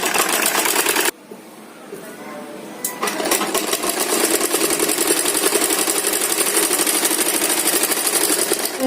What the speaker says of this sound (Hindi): सिलाई लगानी है ऊपर से इसकी, इस तरह से